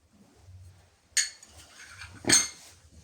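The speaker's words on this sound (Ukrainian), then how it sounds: "Це реально порцелянові тарілки." Two small porcelain plates clink together twice in two sharp, close, separate knocks over faint low rustling.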